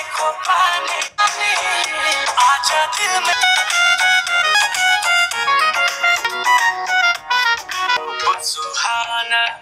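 A song plays at full volume through the loudspeaker of a Vivo T4X 5G phone, steady and continuous music with dense melodic tones and a brief dip near the start, heard alone without talk.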